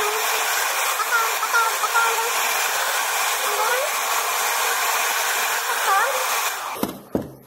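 A hair dryer blows steadily while drying paint on a recycled glass jar, a loud, even whooshing hum that carries on alone until it clicks off near the end.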